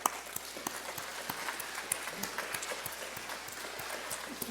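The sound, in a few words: audience applause at commencement ceremony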